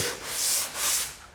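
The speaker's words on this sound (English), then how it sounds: "that was 10 seconds of sanding" A 1965 Corvette body is block sanded with 320 grit sandpaper in two smooth back-and-forth strokes, a close, loud hissing rasp that swells and fades with each pass.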